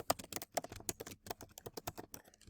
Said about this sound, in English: So you just click on plus and you start typing